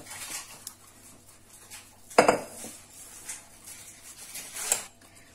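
Basbousa being pressed and smoothed in a rectangular baking pan, with soft scraping and light metallic clinks, one sharper knock midway and fainter taps after.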